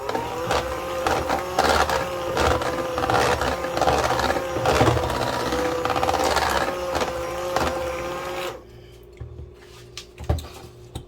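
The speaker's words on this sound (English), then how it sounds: "We're gonna mix it really well." Vanilla icing for a spiced carrot cake is mixed with a steady, close, rhythmic churning and scraping that stops abruptly, leaving near quiet with a faint knock.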